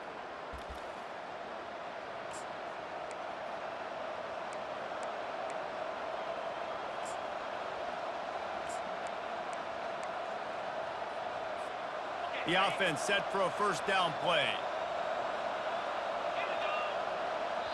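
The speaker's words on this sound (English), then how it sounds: "And with this place rocking, the crowd forces a false start." A football stadium crowd gives off a broad, sustained roar that swells gradually across the clip. A commentator talks over it in the latter part, and the noise stays steady and enveloping, far from the microphone.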